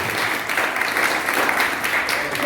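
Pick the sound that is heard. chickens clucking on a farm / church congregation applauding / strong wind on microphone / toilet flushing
church congregation applauding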